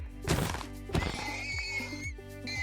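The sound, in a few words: horse sound in the video game Minecraft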